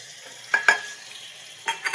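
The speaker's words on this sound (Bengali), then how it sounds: "দিয়ে ভালো করে কষিয়ে নেব 1 মিনিট।" Spices cooking with onion and tomato in a pan, a quiet sizzle broken by a few distinct scraping strokes of a spatula stirring.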